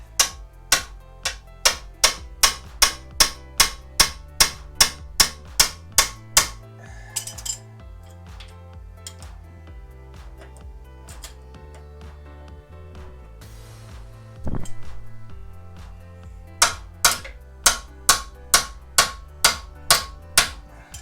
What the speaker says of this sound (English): So I'm gonna have to hit it with a hammer.